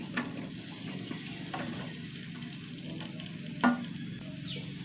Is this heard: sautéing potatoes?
yes